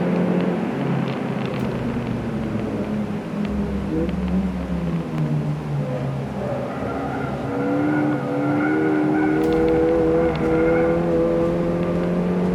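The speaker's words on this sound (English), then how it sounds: "Really good buzzy little car." Small, buzzy car driven hard into a corner on track during a brake test, the engine note dropping under braking then rising through the gears, with brief tire squeal, loud and close.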